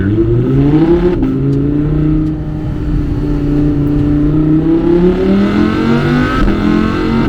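An Audi R8 with a 532-horsepower V10 accelerating hard through a turn, its loud engine note climbing steadily in pitch from inside the cabin, with a brief dip as it shifts and no one speaking.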